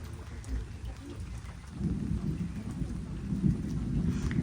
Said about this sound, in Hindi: और बादल अभी तक गरज रहे हैं।